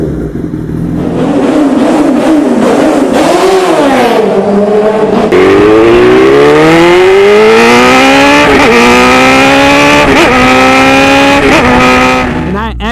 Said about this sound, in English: I changed over to a Hyperflow exhaust, which is specifically built for the CBR 1000 RR